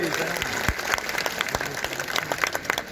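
A crowd at a political public rally claps to welcome a state party leader, scattered individual claps over a busy murmur, moderately loud and uneven, with some voices under the clapping.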